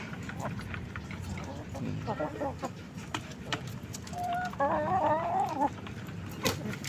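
Backyard chickens cluck and call close by, with several short bursts and a longer run of clucking in the middle, over a busy farmyard background with a person talking.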